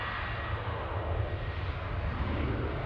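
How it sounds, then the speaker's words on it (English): Qantas Boeing 737 airliner at Adelaide Airport, its engines a steady, fairly distant broadband roar with strong low rumble, holding even and unbroken throughout with no talk over it. "Qantas 737 off to Melbourne."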